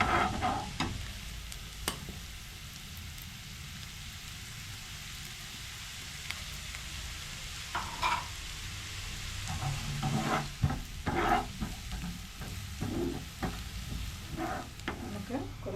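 Chopped green chillies fry in a pan with a soft, continuous sizzle, broken by scattered scrapes and taps from a stirring utensil. The taps grow busier toward the end, with no talking.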